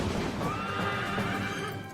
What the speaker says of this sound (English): Apparently, they climbed a mountain to save some wild horses.